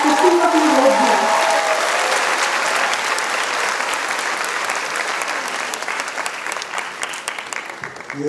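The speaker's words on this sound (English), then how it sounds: "A big round of applause as we welcome him to speak a few words here." Audience applause greeting Javed Akhtar at the SOA Literary Festival award ceremony, a dense, sustained roar of many hands clapping that stays loud throughout, with a voice briefly heard at the start.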